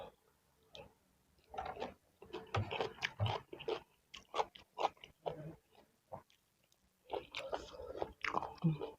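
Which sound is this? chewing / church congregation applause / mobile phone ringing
chewing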